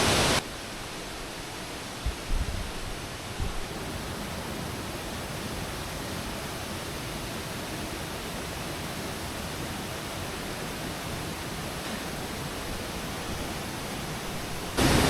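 Sitafal waterfall swollen by monsoon rain roars as a constant, broad rush of falling water, loud and unbroken, with a few faint knocks near the start.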